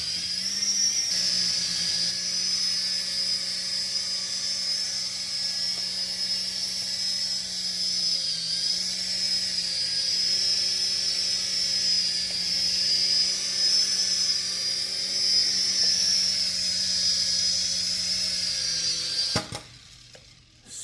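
A DEERC 2.4GHz remote control helicopter whines steadily through takeoff and flight, a high thin motor buzz with faint rotor hum, ending in a short clatter.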